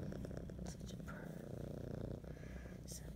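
A close, rumbling cat purr runs continuously, low and steady, with a few faint higher rustles or soft sounds above it.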